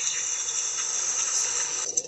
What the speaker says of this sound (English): You got rain sounds.